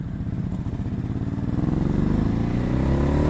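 A 2019 Ducati Hypermotard 950 twin-cylinder engine revs steadily upward, loud and close, with a rising pulsing drone and no talk.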